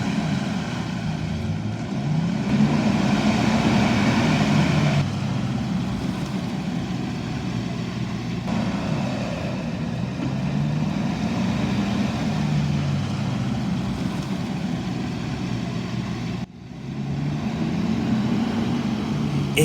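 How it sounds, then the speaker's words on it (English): A heavy Toyota Prado towing a heavy trailer crawls forward while a winch pulls it out on a tough Namibian track, a steady low engine drone with rumbling mechanical strain running throughout, close and fairly loud. "Crawl control with the winch are once again in play, pulling out the heavy Prado with its heavy trailer."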